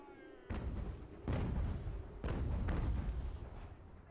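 Booming artillery fire in the strategy video game Ultimate General: American Revolution, four heavy blasts at uneven intervals with rolling rumble between them, loud and close.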